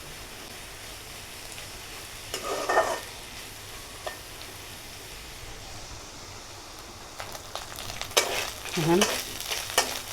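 Salt and spices frying in a pan for hilsa fry in a home kitchen, with a steady low sizzle broken by louder stirring and scraping bursts near the end; one brief spoken word.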